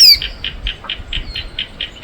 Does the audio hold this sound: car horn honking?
no